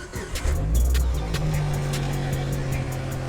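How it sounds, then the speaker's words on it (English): A car engine cranks briefly and catches, powered by an emergency jump starter with the battery terminal disconnected, then settles into a steady idle close by. "easily started the car without the battery terminal connected"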